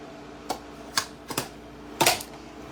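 A few crisp paper cuts made at an angle with scissors, four or five short, close snips spaced unevenly, the last a quick double snip.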